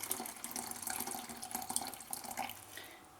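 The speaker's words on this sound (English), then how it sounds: "I'm going to add about 300 ml of boiling water to a stock cube." Boiling water pours from a kettle onto a stock cube, a quiet, steady splashing trickle that fades toward the end, with no talking.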